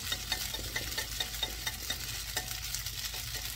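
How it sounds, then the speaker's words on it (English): Chicken and vegetable noodles fry in a hot pan, crisping and browning on the bottom, giving a steady close sizzle with small crackling pops throughout and no talking. "we're just going to let them cook, crispy up, and brown the noodle at the bottom"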